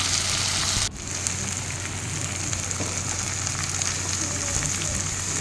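Onion, garlic and tomato paste sauté with okra in an oily pan, giving a loud, steady close-up sizzle that dips briefly near the start and then carries on evenly.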